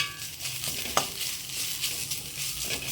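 Soft, steady sizzling of drumstick (moringa) greens frying in a pan, with light scraping and clicks of a spoon stirring, no talking.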